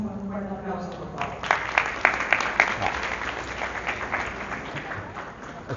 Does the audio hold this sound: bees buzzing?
no